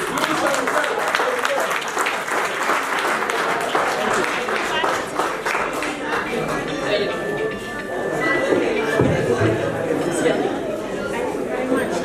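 An audience at a charity fundraising event applauds after a raffle number is drawn; sustained clapping mixed with crowd chatter and voices, fairly loud and steady throughout.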